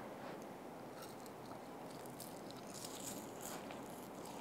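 Someone bites and chews into a crispy, puffy deep-fried Thai omelette, its crunchy edges crackling quietly and continuously at close range with no talking.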